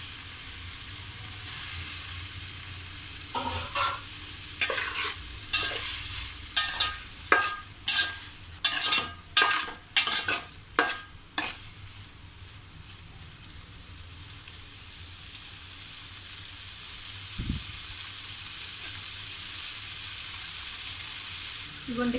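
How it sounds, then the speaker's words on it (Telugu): Potatoes tip into a pan of tomatoes for an egg, potato and tomato curry, followed by a quick run of rhythmic scraping stirs over a soft background sizzle, then quieter cooking noise with one dull knock. "ఇప్పుడు బంగాళదుంపలు వేస్తున్నానండి."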